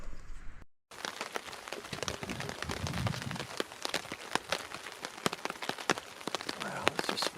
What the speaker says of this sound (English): Well, it's just raining.